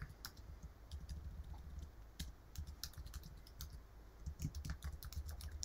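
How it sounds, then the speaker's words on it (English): Quiet keystrokes on a computer keyboard, a soft uneven stream of clicks at a steady typing pace over several seconds against a faint background hum. "So I will start typing"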